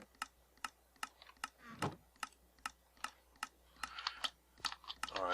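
A card shuffler contraption running in Minecraft gives off a steady, evenly spaced series of sharp mechanical clicks, with a few softer pops and chirps mixed in and no talking.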